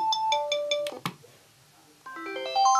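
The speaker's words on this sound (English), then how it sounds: "So you can change the tones for the landline or the Skype thing, just so you can have a different tone for each one." A short run of bright electronic ringtone melodies from an RTX Dualphone 3088 cordless phone, one tone with repeated beeps, then a brief gap before a rising arpeggiated tune; clear and close with no talk.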